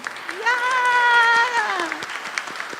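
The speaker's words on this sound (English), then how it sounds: "we can clap for that" Applause at a youth business hall of fame ceremony: scattered claps from the audience come with a rising, held cheer that fades after about two seconds, then a few more claps.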